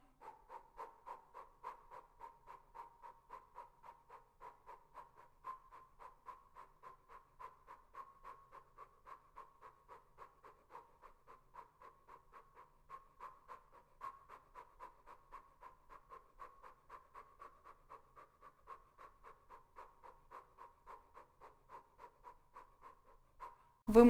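Rapid, rhythmic active breathing during a kundalini yoga cleansing exercise, quick even puffs of breath repeating steadily and close, with no talk until a brief sound at the very end.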